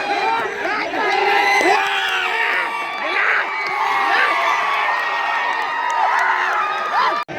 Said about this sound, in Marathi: आमची जरी हरली तरी आम्हीच ओरडा लागलो.